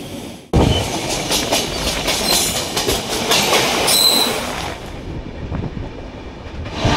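A passenger train pulls out from Kolkata bound for Jhargram, its steady rumble and clattering wheels filling the clip continuously after a sudden start, loud and close with faint squeals and no voices.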